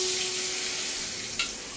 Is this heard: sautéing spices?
yes